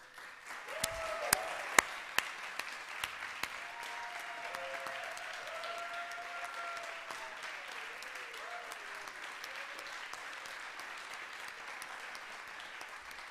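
An audience applauds steadily for a long stretch, dense clapping filling the room, with a few voices murmuring underneath.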